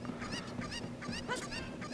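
Cuccos, the chickens of Ocarina of Time, clucking and squawking in a rapid, overlapping series of nasal honk-like calls, fairly loud and steady throughout with no speech.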